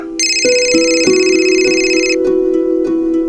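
A telephone rings for an incoming call, a bright electronic ringtone with repeating tonal pulses and a sustained upper tone, loud and close with no talking.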